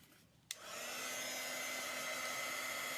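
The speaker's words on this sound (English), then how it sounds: "the dryer that I'm using is a heat dryer" Heat dryer blowing air onto a chalk stencil, switched on with a click and then a steady, fairly close whooshing hum that holds without a break.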